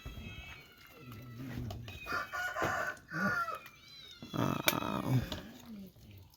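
Chickens cluck and a rooster crows repeatedly at a rural Thai farmstead, fairly close and moderately loud, with overlapping calls and no talking.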